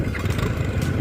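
A motorcycle engine labours in soft sand dunes near Chushul in Ladakh, with a close, steady low-pitched rumble and irregular throttle pulsing throughout.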